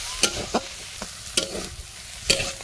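Leafy greens fry and get stirred in a pan in a village kitchen, with a scraping stir repeating every second or so over a soft, steady sizzle, close and fairly quiet.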